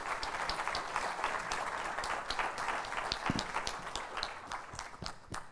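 An audience at a maths education conference claps for a lesson study team, a fairly quiet, brisk round of applause with distinct individual claps that tapers off near the end.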